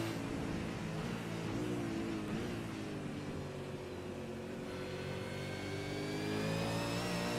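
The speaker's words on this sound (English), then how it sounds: "I noticed down the back straight too, bouncing off the rev limiter" A race car engine in a sim racing game at Watkins Glen, heard faintly with a sustained high rev and tonal whine that dips and then climbs again toward the end as it holds near the limiter.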